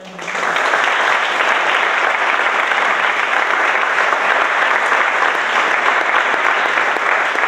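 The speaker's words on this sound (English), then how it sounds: "Please give a round of applause" Audience at a Build Peace 2016 peace conference breaking into loud, sustained applause, dense steady clapping filling the room with no voices over it.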